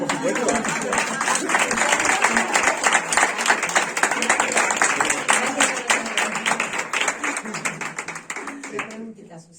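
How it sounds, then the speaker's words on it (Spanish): Conference audience applause, a dense sustained roll of many clapping hands that fades toward the end, with a brief spoken voice heard over it. "Vamos a darle un aplauso primero"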